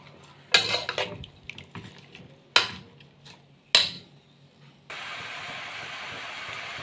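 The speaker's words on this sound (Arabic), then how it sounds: "هنقلب بقى البصل مع اللحمة." Onions and meat are stirred together in a pot for kebab halla: a spoon scrapes and clanks sharply against the metal several times, then a steady sizzling hiss takes over.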